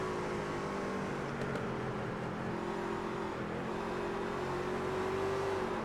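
A loud, steady engine drone that holds and shifts slightly in pitch as a race truck lifts off the throttle at Georgia Mountain Fairgrounds, with no voices.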